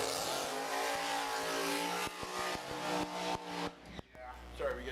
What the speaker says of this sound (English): So as we get the cars fired up, we got Rick Barnhart in the left lane.